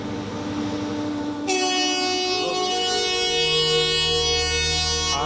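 A train passes at Tambaram station in Chennai, its rumble building as a loud, sustained horn cuts in partway through and holds over the rolling wagons nearby.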